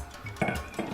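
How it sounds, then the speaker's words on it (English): A utensil stirring basmati rice in a pot of boiling water, with two brief scraping clanks against the pot over a low bubbling background. "I'm just gonna give this a little stir."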